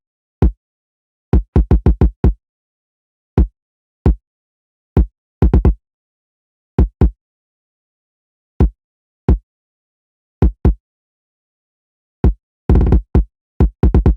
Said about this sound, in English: For the kick, we are using a rack kick.